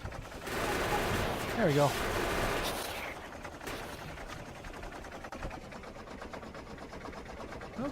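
Machine gun fire bursts out in Factorio, a dense rattling volley for the first few seconds that fades into quieter combat noise while a voice speaks briefly.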